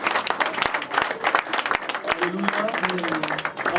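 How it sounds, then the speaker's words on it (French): Loud applause and cheering from a church congregation, dense clapping throughout with a voice calling out over the crowd. "Est-ce qu'on peut acclamer très fort?"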